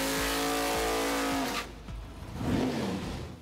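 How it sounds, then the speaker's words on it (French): A Top Fuel dragster's engine roars loudly with a rapid, pulsing rumble, then cuts off abruptly partway through, leaving a fading, rough tail of engine noise. "regarder les véhicules de course Top Fuel faire leur travail"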